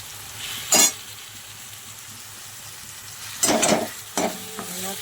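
Onion, tomato and a ground paste of green chilli, coriander and garlic frying in a pan, a low steady sizzle broken by a few loud scraping stirs, heard alone without speech.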